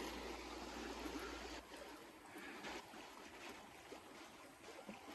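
River water flowing with a soft, steady rushing and gurgling, fairly quiet, with a low rumble that drops away early on.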